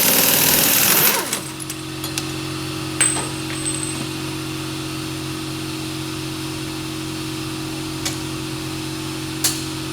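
An air compressor runs in a garage with a steady, droning mechanical hum throughout, preceded by a brief loud burst at the start and a few faint clicks and knocks nearby.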